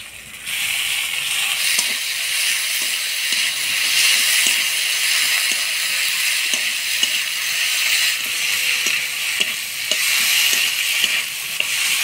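Ginger-garlic-chili paste and chopped tomato frying with dried fish in a pan: a loud, continuous close sizzle and hiss with soft repeated stirring ticks, no voices.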